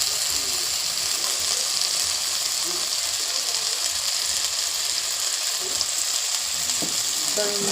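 Chicken curry with spices sizzling steadily in a pan while being stirred, a constant loud frying hiss with occasional scraping, no talk.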